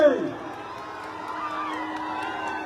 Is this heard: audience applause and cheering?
yes